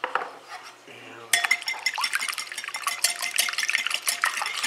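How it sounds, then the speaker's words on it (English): Eggs and milk are whisked in a bowl, a rapid, continuous metallic clatter of the whisk against the bowl, close and fairly loud, following a few softer clinks. "I'm going to add some milk and I'm going to whisk that up"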